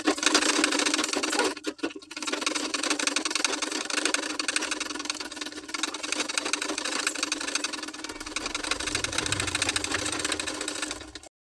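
A sewing machine stitching lining onto blouse sleeves, running in a continuous close whirring hum with a brief pause early on, then carrying on steadily until it stops.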